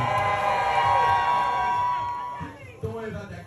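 An audience cheers and shouts at an alligator jumping show at Gatorland in Orlando, Florida. A broad wash of crowd noise fades, then a few shorter bursts of whooping follow.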